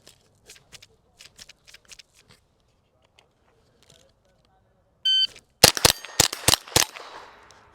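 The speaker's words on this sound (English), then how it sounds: "Now listen to the cadence on these next shots." Rimfire rifle shots at steel plates in a Steel Challenge match: faint ticks and a short beep, then a quick string of about six sharp, loud cracks at a brisk, steady cadence with ringing tails.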